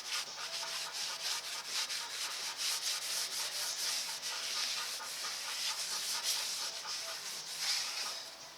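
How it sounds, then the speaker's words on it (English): A towel wiping brake cleaner off a wheel hub on a 1999-2006 Chevrolet Silverado, heard as close, continuous rhythmic rubbing strokes with a faint hiss. "I'm just going to wipe this off."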